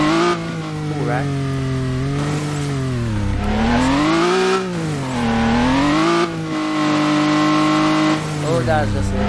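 Car engine revving and changing pitch in a GTA-style Unity video game, with steady harmonic drone rising and falling as it accelerates and slows; a voice talks over it throughout.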